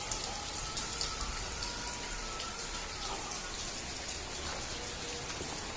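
Steady rain falls outdoors at a flooded spot in Nganjuk, a dense, even hiss of drops with no breaks, moderately loud throughout and no voices.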